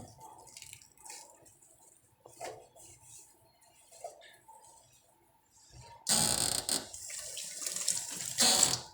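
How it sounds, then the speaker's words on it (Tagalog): Dishes and a frying pan washed at a sink: scattered drips and soft clinks of dishware, then tap water gushing loudly into the basin with occasional knocks of pots. "Ayusin yung paghugas ha. Baka mabasag."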